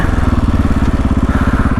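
A KTM 500 EXC-F dirt bike exhaust close up, fitted with a new ECU, with rapid, rhythmic popping and burbling as the engine slows. It stays loud and steady throughout.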